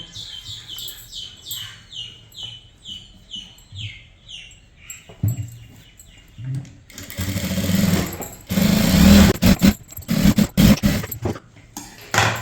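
A sewing machine runs in several bursts, stitching a line along the lining of a blouse back. The motor whirs loudly and close, with a high, chirping pattern of sound before the stitching starts.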